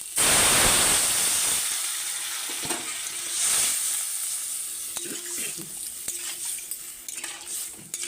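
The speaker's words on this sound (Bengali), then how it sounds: "ভাজা হয়ে গেছে এবার আমি জল দিয়ে দিচ্ছি" Water poured into a hot pan of fried potatoes and spice paste for a bottle-gourd kofta curry bursts into a loud sizzle that fades, followed by spoon scrapes and clinks against the pot.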